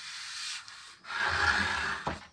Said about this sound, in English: So just spend a little time sanding it down.